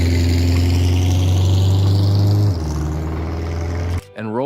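A 1952 Pontiac Chieftain straight-eight runs loud and close with a steady low idle drone, drops to a quieter tone partway through, then cuts off abruptly near the end.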